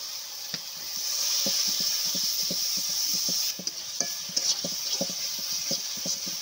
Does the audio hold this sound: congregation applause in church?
no